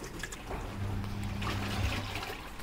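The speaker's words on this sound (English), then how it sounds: "now the machine is filling up the water" An Arduino-controlled washing machine fills with water, a faint trickling and gurgling inflow with a low steady hum beneath it.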